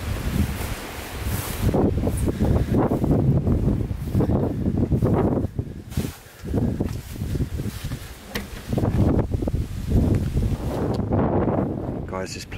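Heavy wind buffets the microphone in rumbling gusts at an abandoned village, nearly drowning out a person talking underneath.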